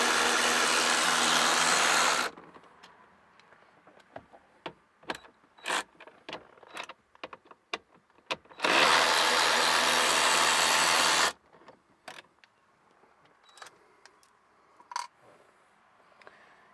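Two 7mm bolts being removed from the gauge cluster bezel of an SN95 Ford Mustang, with two long, loud bursts of a power tool whirring and scattered close metallic clicks and rattles between them.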